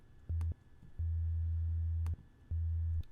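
Pure low sine tones from an FM8 software synth in Logic sound three times, a short burst, a long sustained note of about a second, then another short one, steady and clean with brief clicks at each start and stop.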